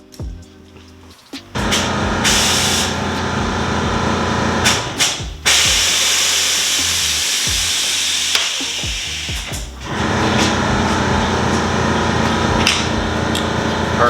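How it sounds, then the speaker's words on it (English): An angle grinder cuts through a car's front fender, a loud harsh grinding whine that starts after a quiet moment, drops out briefly twice, then resumes steadily. "I'm just gonna go ahead and switch to the angle grinder."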